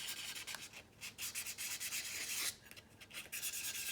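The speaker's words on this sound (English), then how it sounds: "And you just want to sand it." Stainless steel cup being hand-sanded, a steady run of close, raspy scrubbing strokes in quick rhythm with a brief pause midway.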